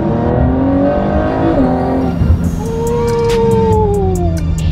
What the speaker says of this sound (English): this is the best sounding V6 you have ever heard